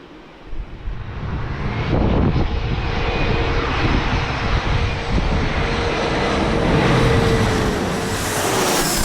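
An Air Canada airliner passes overhead near San Diego airport, a broad, loud jet roar that swells in and holds steady with a faint whine, with no talk over it.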